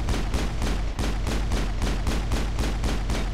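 Rapid, steady pistol fire in the video game Mass Effect during the fall of Eden Prime, with shot after shot in a dense, loud rhythm and no pauses.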